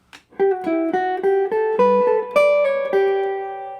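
A guitar plays a short melodic phrase of about a dozen plucked notes in a steady rhythm, clear and close, with no talking.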